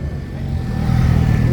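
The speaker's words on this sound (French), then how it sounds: "Une petite moto." Small motorcycle passing on a Montréal street during the Formula 1 weekend, a rising engine drone building in loudness as it approaches, close and alone without talk.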